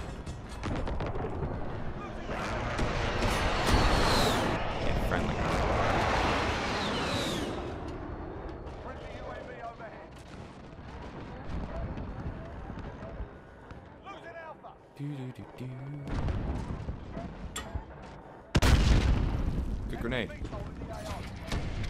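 C4 explosions and gunfire in a Call of Duty Modern Warfare ground war match, with heavy blasts, scattered shots and a sharp loud boom near the end, all under frequent talking.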